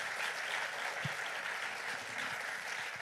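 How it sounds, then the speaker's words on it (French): A studio audience applauds the talents of the South-West on a French radio broadcast, a steady, moderately distant wash of clapping that continues evenly throughout with no talk over it. "Et je vous propose de les applaudir, les talents du Sud-Ouest."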